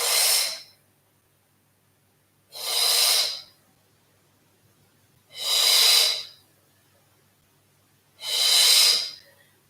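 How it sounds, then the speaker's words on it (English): Four slow, deliberate breaths during a yoga exercise, each a loud, airy whoosh lasting about a second, evenly spaced with near silence between them. "Maybe starting to play with a nice audible breath."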